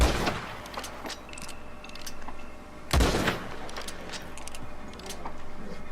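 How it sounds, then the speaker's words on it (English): Sniper rifle fire in the video game Red Dead Redemption 2: sharp gunshot reports, one especially loud blast near the middle, with rolling echoes and background game ambience between them. "So I'm gonna have to pick him off with my sniper rifle."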